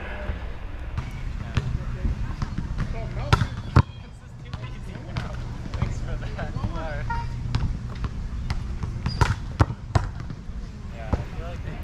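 Volleyball spikes hit and bounce off a back wall during practice, producing a series of sharp, irregular thumps and smacks at close to medium range, with voices and activity in the background.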